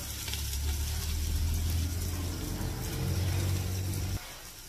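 Ginger sizzles in a hot pan alongside garlic and onion, a steady loud frying hiss with low rumbling stirring underneath that cuts off abruptly near the end.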